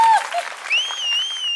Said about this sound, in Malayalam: നല്ല കയ്യടി കൊടുക്കൂ.